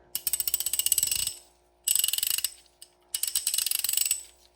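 Three bursts of rapid, loud clicking from a dry, unlubricated ratchet wrench, each lasting about a second, with short pauses between, dry and metallic at close range.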